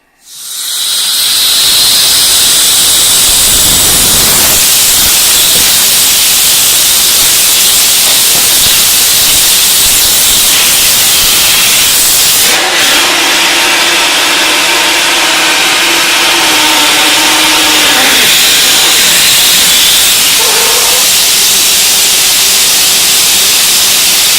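A loud, steady broadband hiss of a running shop air compressor, with a low droning hum joining partway through, continuous throughout.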